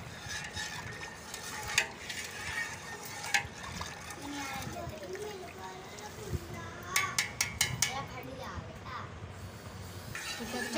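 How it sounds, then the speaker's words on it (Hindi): Milk being stirred in a cooking pot, a steady liquid swirl with scraping and light clinks of a utensil against the metal, heard under ongoing talk from people nearby. "चलो मिक्स करो अच्छे से।"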